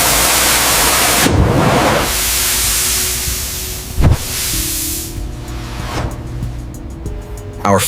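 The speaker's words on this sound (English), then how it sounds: "Robotic steam shaping sets the final silhouette, ensuring a perfect fit and a flawless appearance." A robotic steam shaping machine hisses steadily as it forms a bison wool winter garment in a factory, with loud broadband bursts and sharp releases of steam around the continuous spray.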